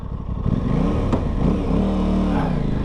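An Aprilia RS 660 twin-cylinder motorcycle, 2021 A2 version, revs up loudly and close, with its engine note rising and falling over a few seconds and no voices.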